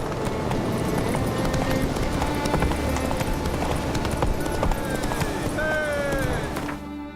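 The horse Roach gallops in The Witcher 3 video game, its rapid hoofbeats running continuously amid dense game ambience, with a brief voice and a whinny-like tone near the end.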